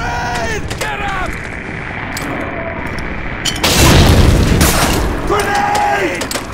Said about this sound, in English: Grenade! Get him!